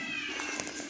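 A pet cat gives a single faint meow, brief and fairly close, over a quiet indoor background.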